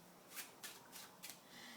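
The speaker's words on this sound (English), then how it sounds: "give the deck a couple of cuts. Okay, just like so, and just give it an overhand shuffle." A deck of playing cards gets an overhand shuffle: four quick, soft riffling bursts in an uneven rhythm, close and quiet, with no talking.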